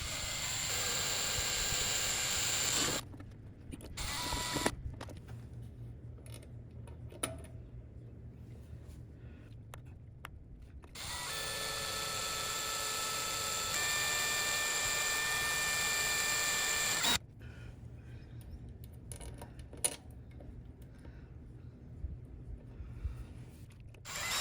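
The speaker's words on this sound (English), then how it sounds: "then just go back with the drill through these existing holes" A power drill whirs in several separate bursts through existing holes, starting and stopping with pauses between runs, fairly close and steady while running.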